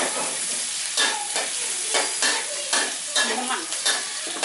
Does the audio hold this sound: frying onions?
yes